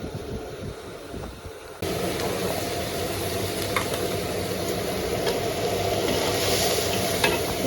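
A wok stir-fries fish and other ingredients in an open kitchen at a rural farm restaurant. A steady, loud sizzle and spatula scraping begin suddenly and run on continuously.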